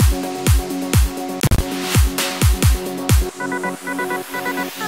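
Intro of an electronic music track: punchy kick drums thump in a steady rhythm under bright chord stabs, with a short glitchy break midway, then the kicks drop out and a lighter, plucky synth pattern carries on alone.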